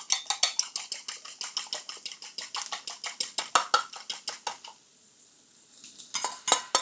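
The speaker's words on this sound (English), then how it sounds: "Just give it a few stirs here and there." A utensil scrapes and clinks rapidly against a pan while three eggs are stirred for a Denver omelette, a steady fast rhythm of close, bright strokes that pauses briefly near the end before resuming.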